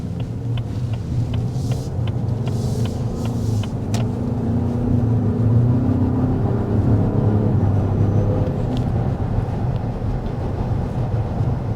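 A 2024 Lincoln Nautilus accelerates hard in its sport-like Excite drive mode, heard from inside the cabin as a steady, low, muffled engine grumble and road rumble that swells slightly midway, with no talking.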